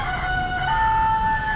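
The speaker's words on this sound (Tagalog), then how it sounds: "maingay yung manok natin" A rooster kept in a backyard crows in one drawn-out call, heard at moderate distance over a steady background hum.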